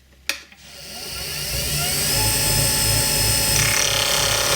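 A wood lathe turns a pen blank while a gouge takes gentle bevel-riding cuts, giving a steady close motor whine with a sharp tap at the start and a rising, continuous scraping hiss.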